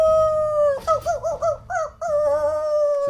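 A man imitates a wolf howl with his voice, a long sustained wavering tone broken by a few short rising and falling yips in the middle, loud and close with no other sound.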